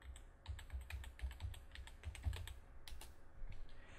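Close, rapid typing on a computer keyboard: quick irregular bursts of key clicks with brief pauses, heard alone without voices.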